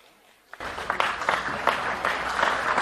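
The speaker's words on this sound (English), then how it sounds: "The applause here for young Cooper Shanahan as he's been helped from the field." A crowd at an under-16 junior rugby league match applauds as an injured player is helped off the field. The clapping starts abruptly after a brief near-silence and stays steady and moderately loud.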